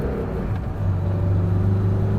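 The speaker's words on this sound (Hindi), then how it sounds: "बहुत ज़्यादा वोकल हो जाता है इंजन" Engine of a 2025 Mahindra Bolero B6 revving hard as it accelerates through the gears on a village road, a loud, steady low rumble with a rising drone and no talk over it.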